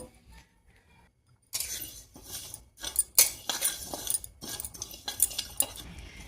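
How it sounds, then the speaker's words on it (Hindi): Whole spices for amla pickle are roasted together in a hot kadhai, with a metal spoon scraping and clinking against the pan in close, irregular strokes after a quiet start. "अब इन सारे मसालों को मैं इनमें डाल दूँगी, इकट्ठा ही भूनूँगी"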